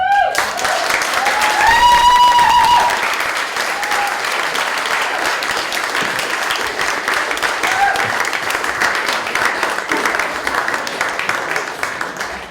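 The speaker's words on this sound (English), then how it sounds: "can we give them a clap?" A small audience applauds a music PR panel at a cabaret venue, a dense, sustained round of clapping at close range, with a brief whistle early on before the clapping gradually thins.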